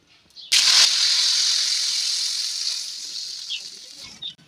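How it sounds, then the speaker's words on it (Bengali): Spice-paste water tipped into hot oil already holding asafoetida, left from browning meat for Kashmiri chicken rogan josh, bursts into a loud, sudden sizzle that hisses on steadily and slowly fades over a few seconds. "যে মশলাগুলো জলটা ছিল সেটা এখন তেলের মধ্যে দিয়ে দেবো"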